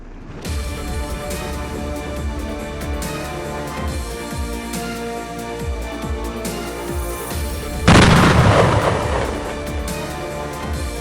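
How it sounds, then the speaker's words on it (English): A gas cylinder explodes in a sudden loud blast partway through, followed by a roaring, crackling rush of noise over a steady rumbling background. "A sudden gas cylinder explosion shook Haiphong, Vietnam on October 4th."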